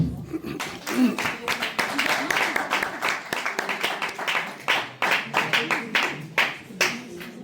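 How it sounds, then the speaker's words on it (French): Applause at the inauguration of an association's headquarters building in Brussels, a small group's clapping with distinct individual claps, uneven and thinning toward the end, with voices talking underneath. "sous vos applaudissements"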